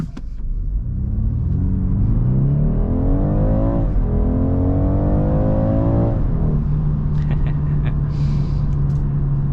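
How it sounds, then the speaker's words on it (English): A 2022 BMW 230i coupe accelerates hard from inside the cabin, its engine note rising through two gear changes with a clear upshift dip, then settling into a steady cruising drone, loud and close. "I'm gonna go ahead and accelerate here"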